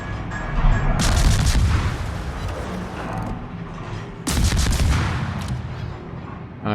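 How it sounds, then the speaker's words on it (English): Heavy explosions in the naval battle game World of Warships as torpedoes strike an enemy ship, two loud booming blasts with rumbling tails over continuous low background roar. "I'm going to do that with the torpedoes"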